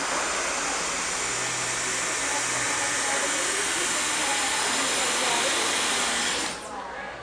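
A hair dryer blows steadily on hair during a home blowout, a loud, constant rushing whoosh that holds for about six seconds before dropping away sharply near the end.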